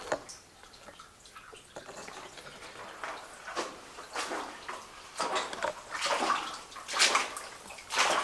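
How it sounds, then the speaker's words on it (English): Water runs and splashes steadily inside the Blue Slide Mine, a continuous rushing flow with irregular splashy surges, fairly close and echoing in an enclosed space, with no talking. "Water's coming from the right."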